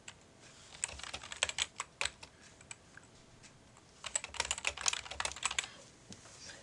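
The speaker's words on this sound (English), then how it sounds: "This would be where I would type something like this." Someone types in two bursts of rapid clicking on a computer keyboard, close and fairly quiet, with a short pause between them.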